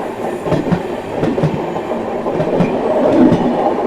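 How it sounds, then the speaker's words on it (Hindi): Danapur Express passenger train hauled by a WAP-7 electric locomotive passing close by, a loud steady rumble with rhythmic clickety-clack of wheels over rail joints and no voices. "दानापुर एक्सप्रेस है।"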